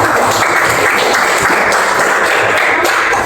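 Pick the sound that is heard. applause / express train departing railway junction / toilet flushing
applause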